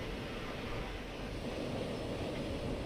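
A small train pulls away in Transport Fever 2, a steady rumbling, rolling drone of rail motion that holds constant and moderately loud throughout, with no voices.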